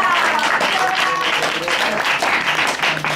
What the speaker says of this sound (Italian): Bisogna fare anche un applauso alla persona che ha organizzato il tutto